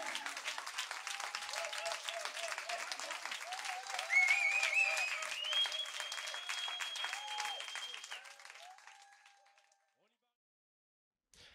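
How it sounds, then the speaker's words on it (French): Audience at an Afro-Jazz stage show breaking into sustained applause, dense clapping that holds steady, swells briefly, then fades to silence, with a voice speaking over part of it. "Et on l'applaudit"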